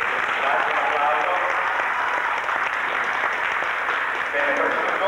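Audience applause at an Italian stage magic show in 1988, a steady, dense clapping wash lasting several seconds, fairly loud and continuous, with a little voice underneath.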